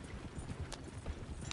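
Horses gallop in Red Dead Redemption 2, a steady run of clip-clop hoofbeats close by that fills the whole stretch, with a faint neigh-like lift near the end.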